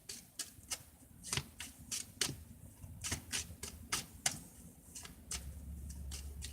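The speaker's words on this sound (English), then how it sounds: "give us a quick little shuffle" A deck of playing cards shuffled by hand at a divination table, heard as quiet, close, irregular crisp riffles and snaps spread across several seconds, with no one talking.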